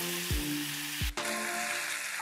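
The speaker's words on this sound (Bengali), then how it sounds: "এবার আমি এর মধ্যে রান্না করে রাখা সবজিটাকে দিয়ে দিচ্ছি।" Precooked mixed vegetables for a Bangladeshi hotel-style bhaji hit a pan of browned spice tempering, a couple of clinks giving way to a sudden louder, steady sizzle.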